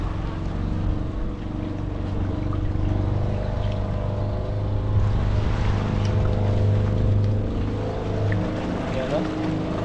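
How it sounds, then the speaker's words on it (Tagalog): A motorboat or outrigger bangka passes along the shore near a spot where grouper gather, its engine droning steadily and fairly loud throughout under wind and water noise. "May dumaan ng bangka."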